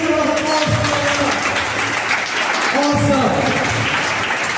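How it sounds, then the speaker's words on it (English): Hundreds of students at an inter-school aptitude competition applaud, a loud continuous wash of clapping, while a voice speaks over it at two points. "Can you give a round of applause?"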